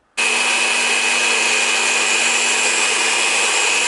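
A drill bores into clear cast Alumilite resin in a scroll-saw workshop. It starts abruptly, then holds one loud, unbroken whine with a high, steady pitch for several seconds. No one speaks.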